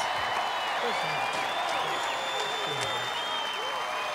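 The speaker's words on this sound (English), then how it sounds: "Let's have a round of applause for Clinton and Howard." Studio audience applauding Gladiators contestants on a 1995 Australian television competition show, a steady wash of clapping and crowd noise lasting throughout, with a voice running faintly underneath.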